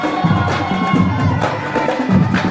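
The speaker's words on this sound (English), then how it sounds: "And their friends are cheering." Friends of passing high school bands cheer at an outdoor spring-break parade on a hot day, a steady crowd of voices and shouts carrying on for a few seconds.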